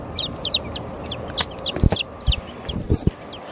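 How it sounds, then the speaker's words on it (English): Several newly acquired chickens cluck and chirp in a repeating pattern close by, with scattered low thumps and handling noise around them. "So this is our new, we're chicken parents now."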